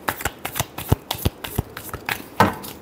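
Tarot cards shuffled in the hands, a brisk series of sharp papery snaps and riffles in an uneven rhythm, close up and alone with no voices.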